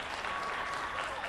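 A crowd screams and applauds at a NASDAQ event for Michael Jackson, a dense, steady roar of clapping and shouting filling the short moment without a break.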